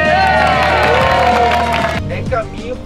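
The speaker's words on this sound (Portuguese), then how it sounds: "Uma salva de palmas." Havan store employees cheer and clap loudly up close, excited voices and shouts over scattered clapping that thins out after a couple of seconds.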